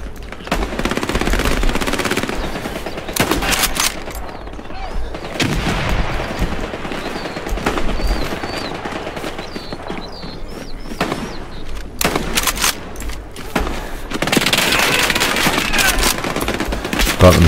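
Loud machine gun fire in Hell Let Loose, a World War II shooter, rattling in repeated bursts with sharp single cracks between them and a heavy, close barrage near the end.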